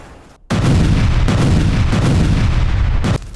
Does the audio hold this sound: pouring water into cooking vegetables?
no